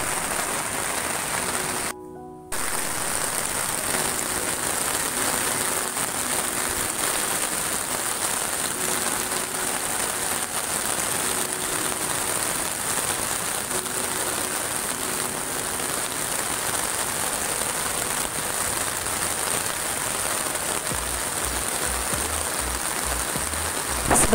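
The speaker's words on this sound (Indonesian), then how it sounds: "Hujan, ketika malam ini hujan ya," Heavy rain pours steadily through the night on a beach campsite, a dense, continuous wash of drops with no voices, briefly cut off once before resuming.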